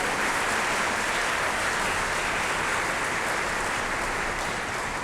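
Steady, loud applause fills a church during a Sunday Mass homily, a dense unbroken wash of clapping from a large congregation with no speech.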